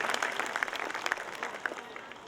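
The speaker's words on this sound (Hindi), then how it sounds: "बच्चों की हौसला अफजाई के लिए जोरदार ताली तो बनती है।" An audience at a school event for young children gives a short burst of applause, the clapping moderately distant and fading toward the end.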